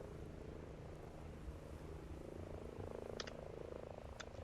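A helicopter flies over in the Ghost Recon Breakpoint video game, heard as a steady, low, rumbling drone that holds at a fairly even level throughout, with no voices.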